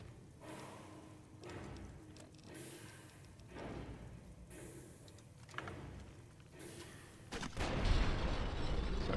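Repeated deep explosions and booms from combat in the video game Fallout: New Vegas, several heavy blasts arriving in bursts with rumbling tails, the last one loudest and longest.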